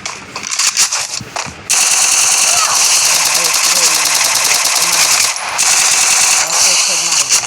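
Rapid automatic gunfire from a mobile shooter video game, loud and nearly continuous bursts of machine-gun fire with brief gaps, dominating the mix throughout.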